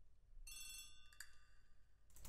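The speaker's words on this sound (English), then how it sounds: "The telephone in the hall is ringing." Telephone ringing in the hall in The ABC Murders video game, a faint electric bell ring with a bright trilling burst that fades, then starts again near the end, heard alone.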